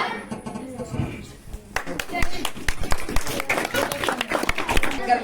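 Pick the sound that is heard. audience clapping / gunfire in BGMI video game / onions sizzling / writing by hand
audience clapping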